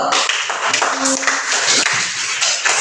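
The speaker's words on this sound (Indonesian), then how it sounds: "Oke, tepuk tangan dulu." A classroom full of people claps steadily and loudly for about three seconds, a dense patter of hands with scattered taps.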